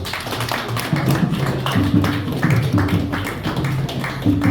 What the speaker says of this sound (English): Now the ancestors should give them a big round of applause.